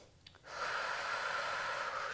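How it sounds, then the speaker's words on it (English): Steady, soft breath sounds during a seated Pilates inner-thigh stretch: a brief sniff, then a long, even airy exhale that holds for a couple of seconds, close and quiet. "Breathing deeply here."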